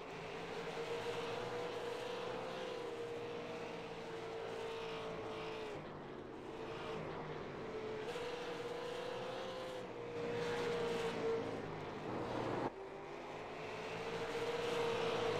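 Race cars lap at Lanier in an American Motorsports Association 100-lap race, their engines holding a steady loud drone with rising and falling pitch sweeps as cars pass, continuous for the whole stretch with no talk.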